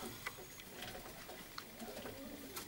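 Nikolaev breed pigeons, a hen sitting on eggs among the flock, coo softly in a quiet loft, with low, faint, intermittent calls over steady background hiss.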